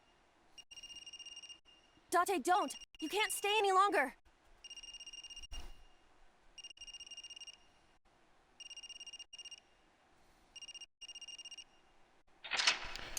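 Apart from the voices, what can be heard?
telephone ringing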